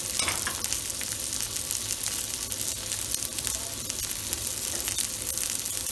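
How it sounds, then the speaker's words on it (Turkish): Vegetables with garlic, black pepper and bay leaves sauté in a pan for a beef roast, giving a dense steady sizzle with crackles and stirring scrapes, close and constant, with no voices. "Yaklaşık 5-10 dakika sebzelerimiz kavrulana kadar kavuracağız"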